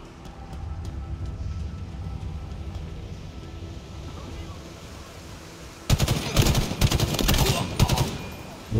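Gunfire in the shooter game Halo Infinite: a muffled rumble of distant shots at first, then a loud burst of rapid close-range automatic fire in the last few seconds.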